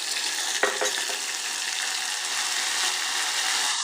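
Onions with garlic-ginger paste frying in a pan, a steady bright sizzle throughout with a brief stirring scrape near the start.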